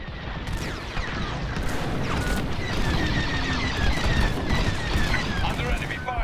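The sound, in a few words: enemy fire in Star Wars Squadrons video game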